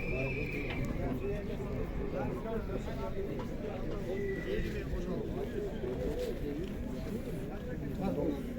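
Horses neighing and whinnying at a horse market in Tokmok, with hoof clops and a bustling crowd, and people talking over the animal calls; pigeons coo faintly in the background.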